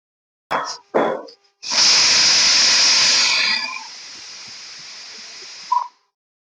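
Bread toast pieces dropped into a hot pan for tomato soup: a few clattering drops, then a loud sizzling hiss that settles into a steady softer fry, ending with a small knock.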